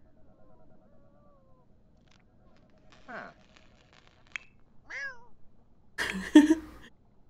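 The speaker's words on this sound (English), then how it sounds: "Listen to her meow." A pet cat in The Sims 4 meows in a few short, rising cries spread over several seconds, fairly quiet against a still background, ending in a louder burst of game sound.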